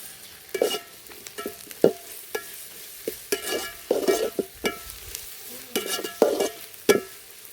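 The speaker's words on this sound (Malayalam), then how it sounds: "അതിൻ്റെ പച്ചമണം പോകുന്നത് വരെ ഒന്ന് ഇളക്കി കൊടുക്കുക." Ginger garlic paste, about three tablespoons, sizzles in a pan for a beef varattiyathu while a spoon stirs it in uneven scraping strokes, the frying hiss steady beneath close, repeated clatter.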